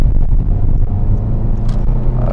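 A Citroën DS3 with a stage 1 engine remap drives along, its steady engine drone and low road rumble filling the cabin continuously, loud and close, with no voices over it.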